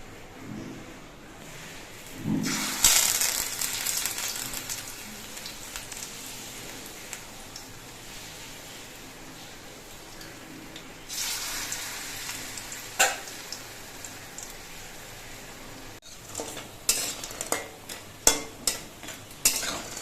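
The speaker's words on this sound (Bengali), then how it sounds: "একইভাবে আমি বাকি পকোড়াগুলো ভেজে নিচ্ছি" Bitter gourd leaf pakoras deep-frying in hot oil give a steady, rain-like bubbling hiss, with a few louder surges and scattered clinks and scrapes of a utensil, growing busier toward the end.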